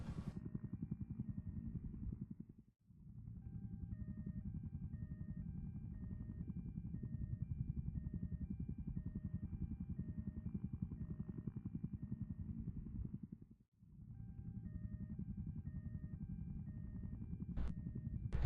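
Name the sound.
helicopter airlifting injured sim racing driver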